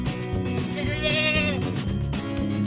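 Goats on a Marathi hillside farm bleat in a wavering, quavering cry that rises and fades near the middle, under steady background noise and a dense, low, busy layer.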